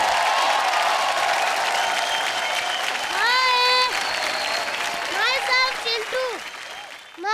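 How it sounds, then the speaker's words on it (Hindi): Studio audience applause and cheering on a Hindi TV comedy show, a steady loud crowd clapping that fades toward the end, with a host's voice and music stings over it. "जोरदार तालियां हो जाएं चिंटू और करण के लिए।"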